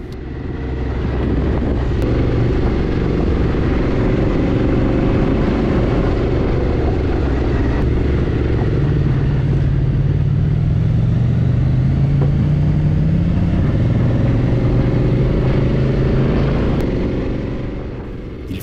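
A motorcycle rides a forest trail in autumn over fallen leaves, its engine a steady, loud, close drone that runs unbroken for the whole stretch with slight shifts in pitch.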